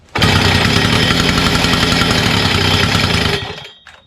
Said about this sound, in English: It has good compression, starts up on one pull.